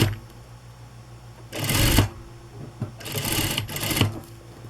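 A sewing machine stitches over a hem finished with crinoline in two quick runs, a short burst and then a longer one, with a quiet pause between them, close and fairly loud.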